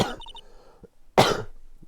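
Two coughs, a short one at the start and a harsher, louder one about a second later, close and alone, from a Phoenix Wright Ace Attorney character.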